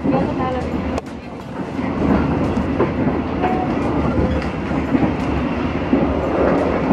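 Passenger train running on rails in Indonesia, a steady loud rumble with rhythmic clatter of wheels throughout, a brief dip near the start, and faint voices under the noise.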